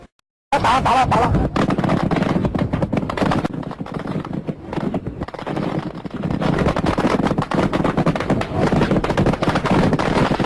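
Rapid, sustained bursts of naval gunfire from 37mm anti-aircraft guns on battleships, loud and close, with dense overlapping reports running almost continuously after a brief silent start.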